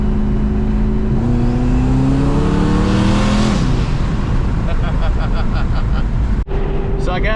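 A tuned, boosted car engine revs hard and climbs through the gears, loud and close, ending in a sharp pop and then idling.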